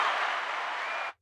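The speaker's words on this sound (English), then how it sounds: "Give yourself a round of applause, sir" Dense, steady applause from a crowd just after a man is praised at a live event, continuous and fairly close for about a second before it cuts off abruptly.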